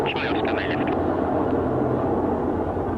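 A heavy helicopter of about 10 tons, developed from a Sikorsky design, flies at the 1987 Fighter Meet airshow at North Weald. Its steady, loud engine and rotor drone fills the clip while a commentator talks over it.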